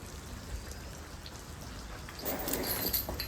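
Steady rain falls on a dairy farm, a dense broadband hiss with patter that swells louder near the end, heard alone without voices.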